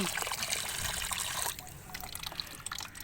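Kitchen waste water poured from a large tub onto garden plants, giving a steady splashing trickle that thins into lighter dribbles and drips halfway through, with no voices.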